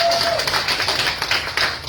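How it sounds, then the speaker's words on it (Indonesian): A church congregation claps to welcome first-time visitors, a short burst of room applause with murmuring voices mixed underneath. "Oh, tepuk tangan."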